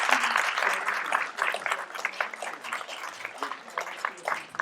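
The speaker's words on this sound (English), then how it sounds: "Let's give a round of applause to these candidates" An audience at an election candidates' forum gives a round of applause, a dense, fairly loud spread of clapping that swells and thins with uneven bursts.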